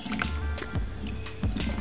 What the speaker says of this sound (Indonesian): kita harus siram sampai air itu keluar seperti ini